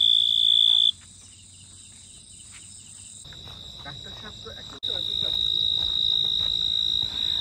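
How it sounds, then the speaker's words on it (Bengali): Crickets behind a cottage at night in Bandarban chirr in a steady, high, continuous drone that drops briefly early on, then returns stronger and stays level. "ঝিঝি পোকার শব্দ, স্পেশাল এফেক্ট না, রিয়েল"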